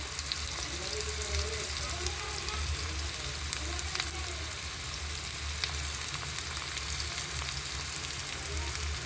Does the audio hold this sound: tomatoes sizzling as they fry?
yes